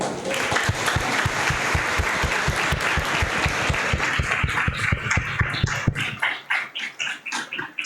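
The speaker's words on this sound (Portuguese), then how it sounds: "Pode aplaudir." A congregation applauds during a Christmas church service, steady clapping that fills the room and then thins out into scattered claps near the end.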